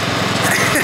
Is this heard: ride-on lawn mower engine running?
yes